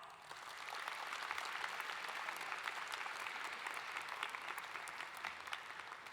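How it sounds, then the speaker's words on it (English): Applause at a school graduation ceremony, a crowd clapping steadily and evenly for several seconds, heard from a distance at low volume. "Please join me in a round of applause."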